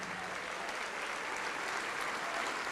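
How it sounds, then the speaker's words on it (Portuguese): Sustained applause from a church congregation, many hands clapping in a thick, even roar that carries on for the whole moment. "Glória a Deus, vamos aplaudir mais"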